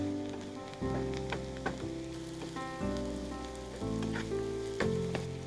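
Paneer cubes frying in a pan with browned, salted onions, giving a steady, close sizzle under a layer of background music, with a few stirring scrapes.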